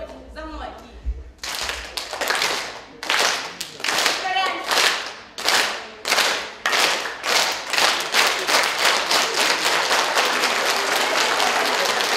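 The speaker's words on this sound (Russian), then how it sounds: "И начинаем хлопать за мной" An audience claps in unison at a pageant event, first scattered, then settling into a loud, steady, evenly spaced rhythm of claps that speeds up slightly toward the end, with a brief voice at the start.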